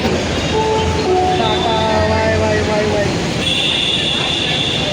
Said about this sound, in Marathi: तर आता ही आपली कन्याकुमारीची रेल्वे. तर आता आपण इथून स्टार्ट करणार आहे, निघणार आहे.